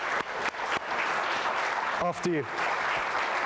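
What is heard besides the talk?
audience applause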